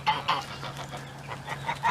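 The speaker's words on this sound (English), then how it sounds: "And the other goose, which will sound like a snake." Geese calling near their nest on a farm, giving repeated short honks and clucking cries at close range with no talk, the calls rising and falling over a steady low background hum.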